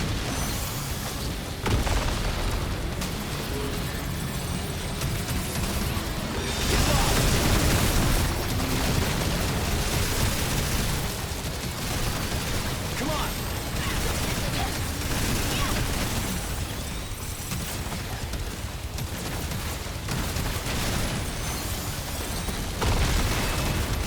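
Dense, loud bursts and booming fire explosions from the video game Daemon X Machina: Titanic Scion, dense and overlapping throughout with no clear pauses.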